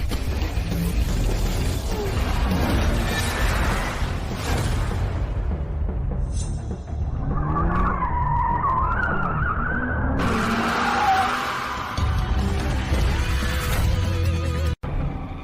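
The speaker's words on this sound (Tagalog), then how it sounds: "Ang bilis ng kotse na yan." A race car tears past with screeching tire skids, loud and close, engine roar swelling and fading across a long drift before a sharp crash-like break near the end; no talk.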